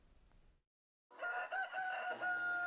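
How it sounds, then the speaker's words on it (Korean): Chickens on a free-range livestock farm: after a brief quiet gap, a rooster crows loudly and close, with clucking hens around it. "닭들이 자유롭게 농장을 돌아다니며 먹이를 먹습니다."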